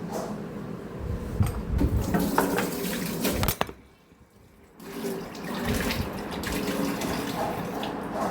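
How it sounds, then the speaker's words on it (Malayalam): Water pouring into a cooking pot for a Kerala salted-mango curry, a close, steady splashing gush that stops briefly and then resumes. "ഇതിലേക്ക് ആവശ്യത്തിന് വെള്ളം കൂടെ ഒഴിച്ചു കൊടുത്ത് നമുക്കിത് വേവിക്കാനായിട്ട് വെക്കണം"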